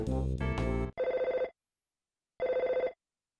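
Chiptune telephone bell from the Earthbound video game rings in two short bursts of rapid trills, separated by a pause, after a brief jingle of musical tones.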